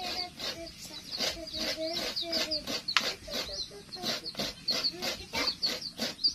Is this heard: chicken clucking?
yes